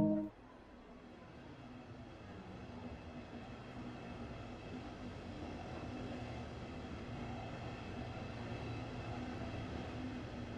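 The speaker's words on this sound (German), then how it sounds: "Dieser Zug ist bereit für die Abfahrt." Simulated train in Train Sim World 2 on the Riesa–Dresden line, heard as a steady low rumbling drone of the train getting under way, continuous and fairly loud after a brief opening tone.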